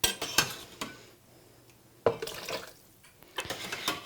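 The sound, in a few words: ladling hot soup from pot into blender container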